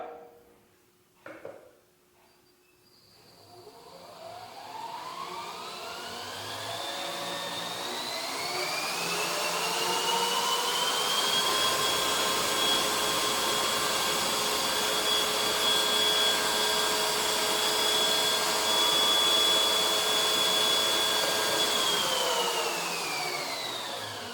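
Bench grinder motor in sped-up footage, spinning up into a loud, steady, tonal whine with rising pitch, holding for a long stretch, then starting to wind down at the end, no voices.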